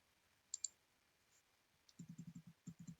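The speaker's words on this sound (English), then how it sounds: "just using the arrow keys to nudge it down" Computer keyboard arrow keys tapped quickly and crisply, a brisk run of about ten close, quiet clicks in two bursts after a couple of isolated taps, in an otherwise silent room.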